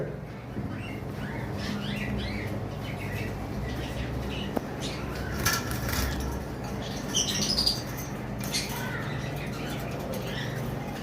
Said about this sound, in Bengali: এই যে এখানে এক পেয়ার ইয়েলো কলার লাভবার রয়েছে